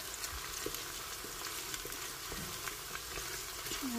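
Onions frying in a pan for Afghan zamarod palaw, giving a steady, dense sizzle with occasional faint stirring clicks, close and continuous, with no voices.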